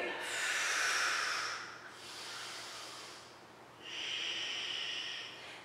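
Deep breaths drawn in and let out while hanging in an aerial yoga handstand setup, three long airy hisses close to the mic with short pauses between them.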